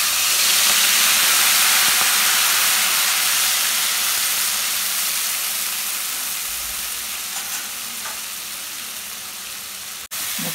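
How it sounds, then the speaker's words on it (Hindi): Bay leaf, garam masala and spices frying in hot oil give a steady, loud, broadband sizzle and hiss that holds for about ten seconds, easing slightly toward the end, up close with no voices. "मसाला भून लेंगे हम"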